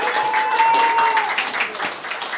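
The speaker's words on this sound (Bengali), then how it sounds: "তো মোয়ের জন্য একটা হাততালি।" Applause for Moe at a Bengali family gathering in Kolkata: a room of people clapping steadily and fairly close, a dense crackle of hands with a faint sustained tone running beneath it.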